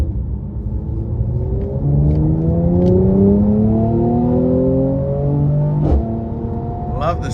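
A 2023 Mercedes-AMG C43 coupe with a 3.0 twin-turbo engine pulls hard under throttle, its loud, close engine note climbing steadily in pitch through the gears with a brief dip at a shift.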